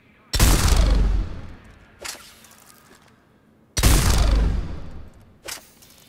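Four scoped shots from the Executioner heavy pistol in Mass Effect 3: two big booming reports each trailed by a long decaying tail, each followed about a second and a half later by a softer mechanical reload thump, close, with no talking.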